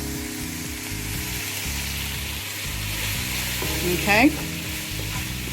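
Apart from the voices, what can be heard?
stirring chicken stir fry in a sizzling pan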